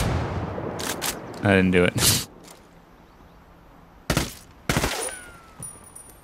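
Gunfire in the video game Ghost Recon Wildlands, a few sharp bursts of shots and blasts in the middle and second half, loud and close, with someone speaking briefly before them.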